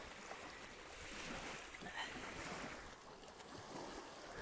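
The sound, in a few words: ocean waves on a blustery winter beach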